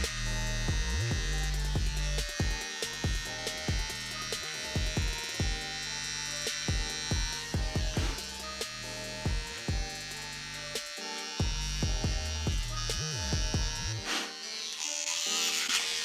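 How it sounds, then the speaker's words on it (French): An electric razor buzzes steadily up close as it shaves off eyebrows, with its whine shifting as it presses against skin and hair and with brief pauses over about sixteen seconds. "Je suis vraiment en train de me raser les sourcils pour ressembler à Eminem."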